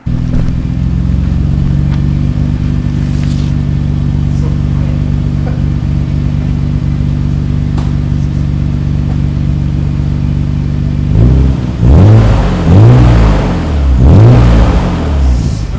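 A Nissan Skyline GT-R with its stock downpipe and catalytic converter still fitted, running through a Kakimoto exhaust, idles with a steady, close drone, then gives a few sharp throttle blips near the end.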